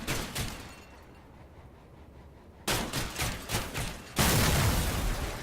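Spider-build vehicle guns firing in the Crossout video game: rapid bursts of shots in quick volleys, a quieter gap, then denser repeated firing and a loud sustained roar of gunfire at the end, heard at moderate distance.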